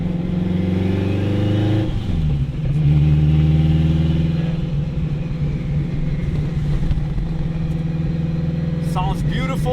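Turbocharged 800-horsepower all-wheel-drive Acura RSX Type-S engine heard from inside the car, a loud droning note that dips as the car shifts, then climbs steadily under acceleration, with a brief sharp chirp near the end.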